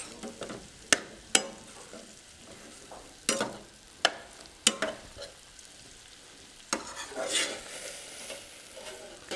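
Garlic tossed into a hot pan sizzles under a steady frying hiss, punctuated by sharp spatula knocks and scrapes against the metal, with a fuller swell of sizzling toward the end.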